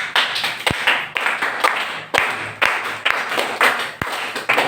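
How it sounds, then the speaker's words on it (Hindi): Students at a coaching class clap in a close, fairly loud burst of rhythmic applause, individual claps sharp and distinct, rising and dipping in waves over several seconds. "तो एक ताली इनके लिए गुड क्लैपिंग।"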